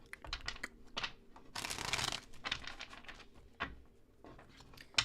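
A deck of tarot cards being shuffled by hand, a run of quick papery riffles and slaps, close and fairly quiet, with a louder burst partway through.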